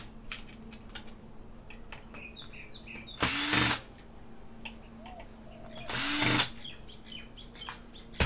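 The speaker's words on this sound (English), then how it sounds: "I've got to remove this back module just to get to the screws underneath" A power screwdriver removes screws from the back module of a Cisco board, two short whirring bursts a few seconds apart, close and moderately loud amid light clicking and handling noise.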